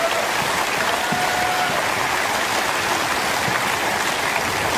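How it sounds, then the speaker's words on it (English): Tennis crowd applauding a Svitolina point in her match against Alex Eala, a steady wash of clapping that holds at an even level throughout with no talk over it. "Tends to be applauded."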